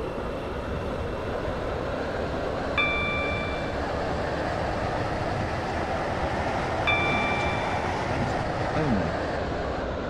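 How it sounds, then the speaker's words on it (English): Inside a Waterline passenger shuttle train with three coaches, a steady loud rumble of the running train fills the space, with two short chime tones partway through. "Welcome aboard this Waterline train to Benton."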